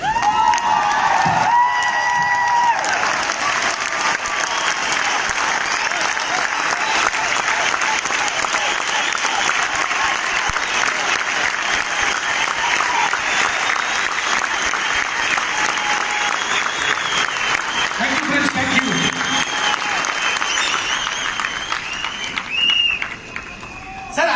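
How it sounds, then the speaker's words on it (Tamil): An audience at a corporate company event bursts into long, loud, sustained applause with scattered cheering voices, keeping up dense clapping for over twenty seconds before it tapers off at the end. "நம்ம மோகன் சாருக்காக நம்ம எல்லாரும் ஒரு மினிட் ஏந்துட்டு ஒரே ஒரு கைத்தட்டல்."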